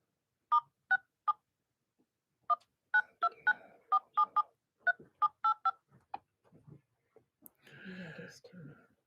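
Telephone keypad tones dial in to a radio show, a string of short, clean beeps in uneven clusters, close and clear, followed by faint breathing and rustling.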